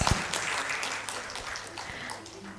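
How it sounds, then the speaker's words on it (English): An audience greets the chief guest of a sustainable energy forum with applause, a short, moderately loud burst of clapping that fills the hall without any speech. "Put your hands together and welcome our chief guest, Mr. Palve Girish Hari Babu, IFS, onto the s"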